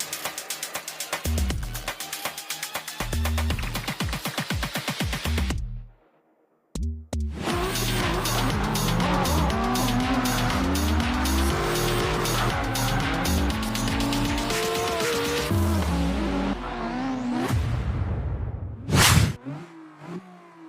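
A mobile drift racing game plays engine revs, gear changes and squealing tires as cars slide through corners, with a short silent gap and a sharp whoosh near the end; loud and continuous with no speech.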